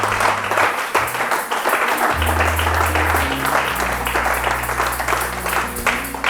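A church congregation applauds steadily, dense clapping close and continuous throughout, with low organ or keyboard tones sounding underneath.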